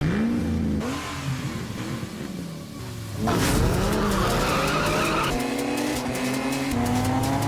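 Race cars accelerating hard with screeching, skidding tires during a street race, a loud continuous roar of revving engines and sustained tire squeal with no voices.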